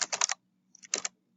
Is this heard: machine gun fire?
no